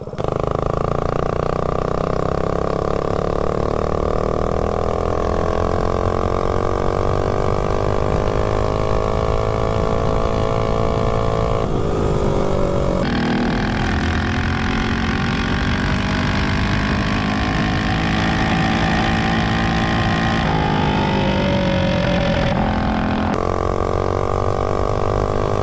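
A small mini bike engine fitted with an upgraded 285 cam and matching head runs steadily near the recorder, a continuous buzzing drone whose pitch rises and falls with throttle changes throughout.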